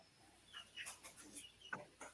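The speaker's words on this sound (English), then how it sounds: "If it sounds like chirping, that's my little baby chickens in there." Faint, high chirps and peeps from baby chicks, scattered irregularly over a low background hiss.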